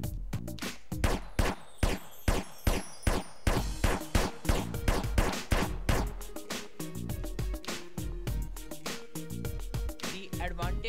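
Gunfire in GTA San Andreas multiplayer: loud, rapid rhythmic shots in a steady string, each with a sharp crack and a short tail, gradually blurring into denser firing toward the end.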